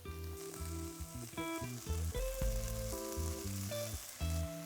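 Boiled chowmein noodles sizzling and frying in a hot pan with paneer cubes, a steady crackle overlaid by clattering, tonal metal ringing from utensils striking the pan, with no voices.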